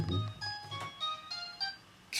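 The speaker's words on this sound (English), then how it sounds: "my bad guys, cell phone went off." A cell phone going off with a chirping electronic ringtone of short repeated tonal beeps, close and fairly quiet, with no talking over it.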